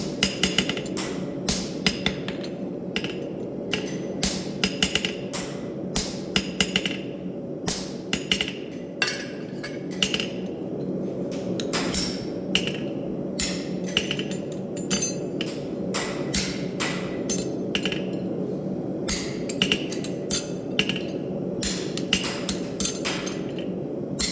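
Rapid metallic hammer strikes on horseshoe nails ring out in irregular bursts over a steady low hum, sharp and close, continuing throughout.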